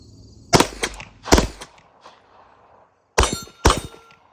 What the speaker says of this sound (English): As you can see, two clean shots there on the steel.